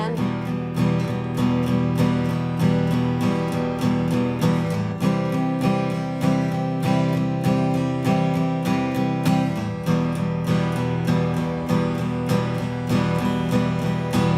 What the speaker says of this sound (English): we can do what is called an 8th note rhythm